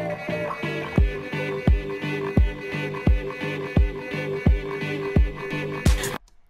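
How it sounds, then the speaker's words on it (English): A deep, punchy kick drum thumps in a steady beat, about nine hits over music, then cuts off abruptly at the end. "Here comes the kick drum."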